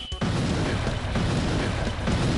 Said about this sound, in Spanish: Luego este ataque que te avisa primero donde va a disparar y luego explosiones